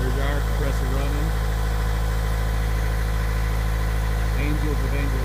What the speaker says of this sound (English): There's our compressor running.